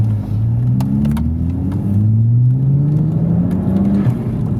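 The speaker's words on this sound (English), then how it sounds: "And the dump valve sounds amazing actually. It's so unusual to hear that on a BMW." A 486bhp BMW 135i E82 coupe accelerating hard, its engine note climbing in rising sweeps with a gear change partway through, close and loud, with sharp turbo dump valve chatters and whooshes between pulls.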